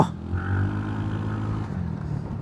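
A scooter in race mode, billed as matching a 150cc bike, pulls away with a steady droning motor tone that climbs gently in pitch, heard close and fairly loud over road and wind noise, with no talking.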